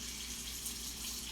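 Cold water being poured into pie crust dough for a blueberry pie, a steady close running splash of liquid filling the whole moment with no talking.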